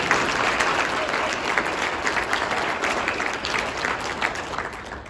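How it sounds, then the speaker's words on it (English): Audience at a city State of the City address applauding with dense, continuous clapping that stays fairly loud throughout before tapering slightly at the end. "It's always nice to have a clapping audience, isn't it?"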